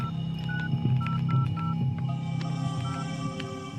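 A telephone being dialed to make an urgent call home gives a quick series of short, clean keypad beeps at an uneven pace over a low background hum.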